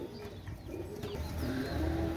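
Pigeons coo in low, soft repeated calls close by, with a few faint chirps mixed in, in a small pigeon-keeping setting with no talk.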